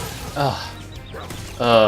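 Enemy dogs barking in Spyro Reignited Trilogy, two short yapping barks from the game close together.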